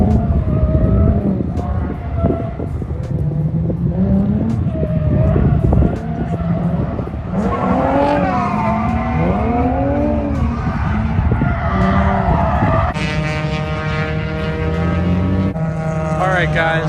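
Drift cars slide around a track at a lock city drift event, engines roaring loud with sweeping revs and tires squealing in long skids, a bright rising tire screech near the end.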